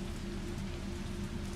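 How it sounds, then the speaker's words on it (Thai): Heavy rain pours steadily in Resident Evil 3 Remake, set in Raccoon City, a dense, continuous hiss of rain on surfaces with no pauses or voices over it. "ฝนฟ้าตกอย่างหนัก"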